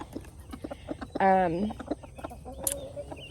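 A broody chocolate Orpington hen gives a short, loud, drawn-out cluck close by, with quieter clucks and faint background noise around it.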